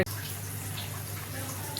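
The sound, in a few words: a glass of water poured into the okra masala curry pan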